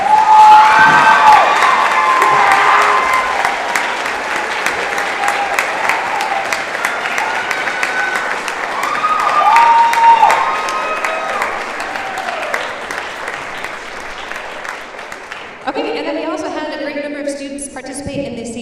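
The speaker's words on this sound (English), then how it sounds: "Let's give a round of applause." An audience at a school orchestra concert claps loudly and steadily with some cheering mixed in, fading over about fifteen seconds before a voice resumes speaking.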